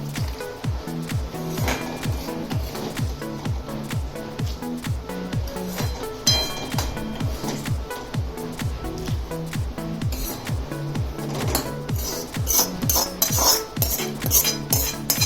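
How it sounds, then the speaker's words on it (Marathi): A spoon stirs dadpe pohe (flattened rice with a tempering and peanuts spread over it) in a bowl, giving steady, rhythmic scraping and clinking against the bowl. The sound is close, continuous and moderately loud throughout, with no talking. "सगळं आता नीट मिक्स करून घेतो आपण."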